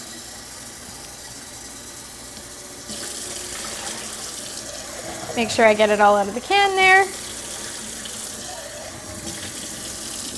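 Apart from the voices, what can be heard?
tap water running over black beans in a colander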